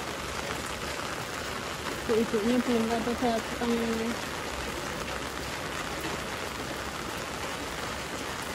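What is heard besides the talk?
steady rain falling outdoors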